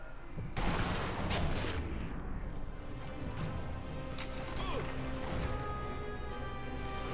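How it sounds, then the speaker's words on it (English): Gunfire in the video game Sniper Elite V2, a loud opening crack followed by a dense, continuous spatter of distant shots and rumble, with faint talk beneath. "They're shooting at me from somewhere."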